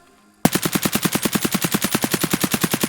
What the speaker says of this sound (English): So now let's shoot while pulling down.